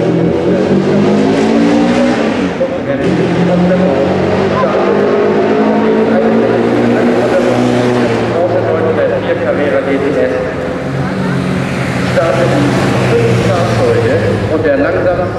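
A classic Porsche 904 Carrera GTS race car runs at an oldtimer regularity race in Hamburg's Stadtpark. Its engine drones loud and close, rising and falling in pitch, while a voice talks over it.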